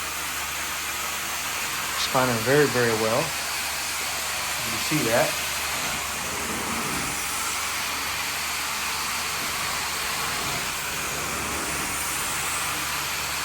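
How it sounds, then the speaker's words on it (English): A steam cleaner runs at about 240 degrees on a carpet, giving a steady, loud hiss throughout while someone talks briefly over it near the start. "Steaming it out now, as you can see."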